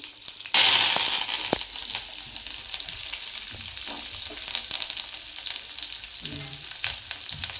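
Curry leaves dropped into hot oil with mutton chukka burst into a loud crackling sizzle that then settles into a steady fry with occasional spoon scrapes and clatter.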